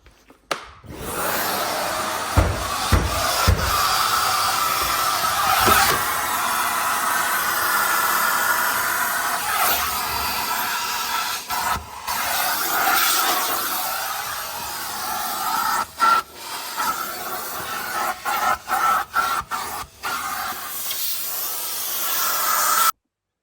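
A vacuum cleaner runs loudly and continuously, its whooshing roar briefly cut and dipping as it moves, with no talking.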